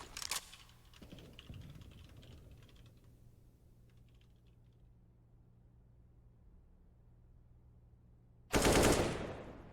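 Rapid gunfire from a Counter-Strike match on the Mirage map, a quick burst of shots at the start and a louder dense burst near the end, with a faint hum between them.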